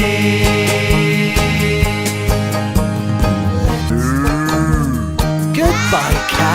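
A farm cow moos several times, long drawn-out lowing calls up close, one following another with short pauses and no other sounds competing.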